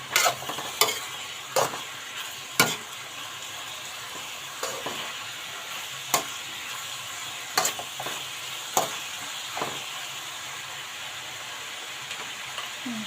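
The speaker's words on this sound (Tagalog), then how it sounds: "Ayan, haluin natin ang konti." Bean sprouts (toge) sizzle in a pan under a steady frying hiss, broken by a dozen or so sharp, evenly spaced scrapes and clacks of a utensil as they are stirred.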